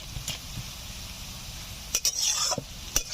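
Chopped onions frying in a pan for chicken curry, with a steady soft sizzle behind several sharp metal stirring scrapes and clinks of a utensil against the pan.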